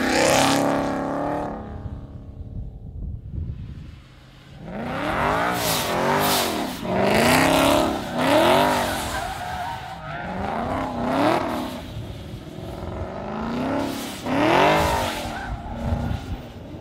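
Car engine and tyres captured for Need for Speed, with revving surges and squealing, skidding tyres in repeated bursts, loud and close after a short quieter opening.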